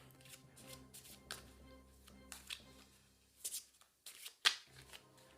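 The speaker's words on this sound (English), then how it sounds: "Now what you'll do with these is shuffle them," A deck of Veilwraith board game cards being shuffled by hand in a quiet room, with short riffling bursts and soft card slaps arriving in irregular spurts, close and fairly faint.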